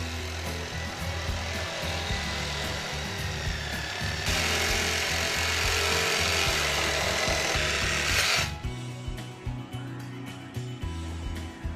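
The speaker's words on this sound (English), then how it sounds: "Carpenters will be thrilled at the ease of cutting or drilling 4x4s, 2x6s, 2x4s, 2x2s, and more." Wood lumber such as 2x4s and 4x4s is sawn while clamped in a Roughneck Tri Vice, giving a steady, continuous rasping cut that grows louder and brighter midway, then stops, leaving quieter scattered knocks.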